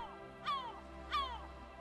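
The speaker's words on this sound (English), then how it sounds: "Thank you, background bird noise." Two harsh bird calls ring out, evenly spaced, over a quiet background hum in a game scene.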